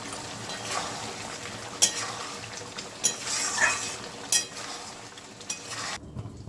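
Broccoli curry being stirred in a pan after garam masala and ghee go in, with a soft continuous sizzle and several sharp spoon scrapes and clinks against the pan, close and spaced every second or so, then a sudden drop to quiet.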